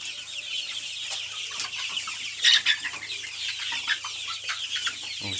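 A flock of young roosters and chickens clucks and peeps continuously at close range, a busy overlapping chorus over a low steady hum.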